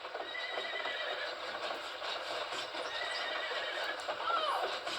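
A horse whinnies and its hooves clip-clop steadily in the Narnia: Prince Caspian video game, a continuous close gallop with the neigh rising near the end.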